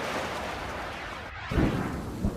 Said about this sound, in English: The storm that swept through Brisbane, concentrating itself on Wollongabba and on the cricket ground.